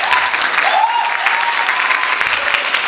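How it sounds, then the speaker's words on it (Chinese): An audience gives sustained applause at the end of a ballroom dance club's showcase performance, continuous dense clapping with faint cheering voices mixed in. "让我们给他们一个掌声"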